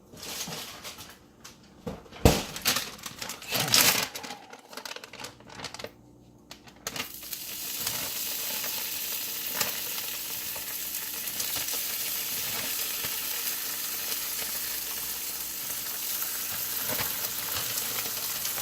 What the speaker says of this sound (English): I need to drop some bacon in it.